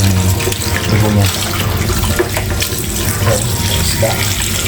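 Tap water runs steadily into a sink as fish are washed for homemade dried salted fish, a continuous splashing stream close by with faint voices underneath.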